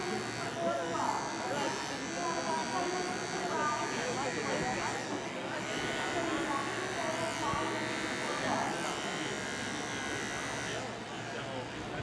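A cordless electric pet clipper trims a poodle's coat for bracelets and rosettes, a steady close buzzing hum running throughout while people talk over it.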